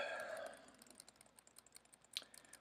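Someone types a short entry on a computer keyboard, producing a quiet, uneven patter of soft key clicks with a brief louder burst near the end.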